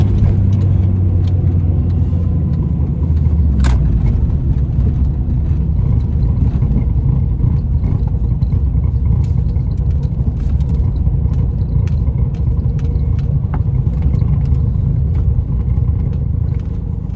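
A car drives along a road beside Lake Michigan in Michigan's Upper Peninsula, its engine and tyre rumble a steady, loud drone throughout with a brief sharper knock early on and no talking.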